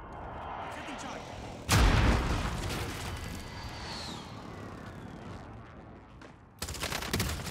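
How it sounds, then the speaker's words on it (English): Airstrike explosions in a Modern Warfare match: a heavy blast booms up close, a rumbling tail and distant aircraft follow, then a second loud impact hits near the end, with game voices faintly underneath. "Allied precision airstrike incoming."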